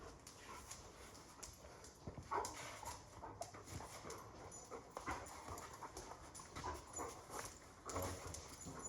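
A restless dog, awake after napping all day, makes faint whimpers and soft panting breaths in an irregular rhythm, quiet and a little distant.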